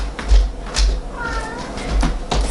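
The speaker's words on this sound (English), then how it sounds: "My cat wants to go out." A house cat meows to be let out, a couple of short, moderately loud meows over steady background noise, with some voice-like sound nearby.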